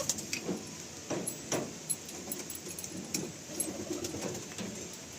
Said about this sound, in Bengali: এতগুলো পায়রা দেখুন জোড়ায় রয়েছে, ডিম বাচ্চা করছে